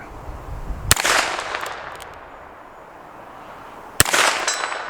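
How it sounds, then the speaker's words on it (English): A S&W 648 .22 Magnum revolver fires two loud, sharp shots about three seconds apart outdoors, each cracking and then ringing briefly, with no talking. "We hit it on the first shot."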